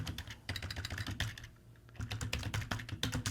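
Close, rapid typing on a computer keyboard, uneven bursts of key clicks with a brief pause midway, as a prompt is entered into an AI chat tool for a dental office.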